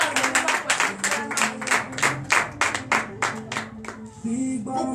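Rhythmic clapping from a worship congregation at a morning prayer gathering in Benin, steady hand claps in a quick beat with voices underneath, tapering off near the end as talk and singing take over.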